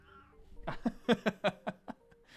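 A pet cat meows in a rapid run of about eight short, close calls, rising and falling in a complaining sequence with no other sounds.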